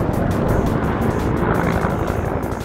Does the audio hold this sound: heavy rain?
no